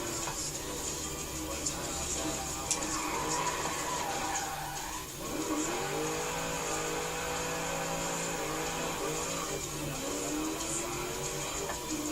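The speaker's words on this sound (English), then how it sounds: "See how smooth and progressive that oversteer was?" Tires skid and squeal as a car oversteers in the racing game Forza Horizon 3, a loud continuous screech with sliding pitch sweeps layered over steady engine drone for about twelve seconds.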